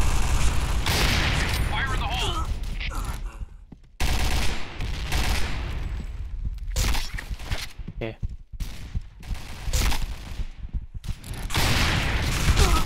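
Rapid sniper rifle fire in the online shooter Point Blank, a dense run of sharp shots crowding the mix alongside other gunfire, with excited voices talking over it.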